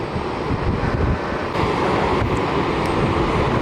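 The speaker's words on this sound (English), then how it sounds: "Legion A320 getting tugged." A Legion Airbus A320 airliner is towed by a tug at Fort Lauderdale airport, producing a loud, steady, close broadband roar that runs unbroken through the whole stretch, with no voices.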